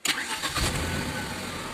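A Tata Nano car engine cranks and catches, a brief burst of starter noise settling straight into a close, steady idle.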